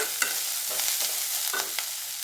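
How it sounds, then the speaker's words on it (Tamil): Onions with curry leaves sautéing in a pan for a Tamil beetroot poriyal, a steady bright sizzle close up, punctuated by several scraping stirs of the spatula at irregular intervals. "இப்போ வெங்காயம் கொஞ்சம் வதங்கட்டும்"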